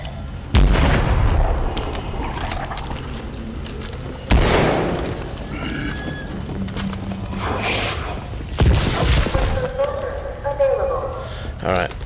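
Three loud booming blasts from teleport grenades in the Call of Duty Advanced Warfare zombies mode, spaced a few seconds apart, each trailing off while a player talks over the game sounds.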